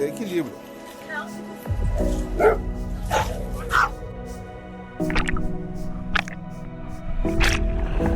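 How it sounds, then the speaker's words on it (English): A small dog lets out a series of sharp, aggressive yips and barks beside the water. The short bursts come in irregular spurts under steady talking. "the ultra-aggressive small dog who couldn't possibly hurt anyone"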